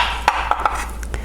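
A knife cuts a watermelon into one-inch slabs on a board, giving several light, separate chopping thuds over a steady background hiss.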